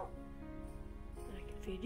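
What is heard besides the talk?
No everyday noise stands out behind the speech.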